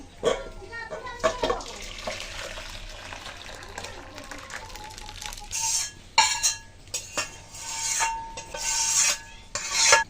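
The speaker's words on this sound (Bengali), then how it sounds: "ডাল আমি এখন নামিয়ে নিচ্ছি" A pot of mung dal lifted off the stove in a home kitchen, with clinks and scrapes of metal pots and utensils, a brief running-water sound and intermittent clatter, while someone talks.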